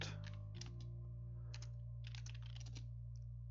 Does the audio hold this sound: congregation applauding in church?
no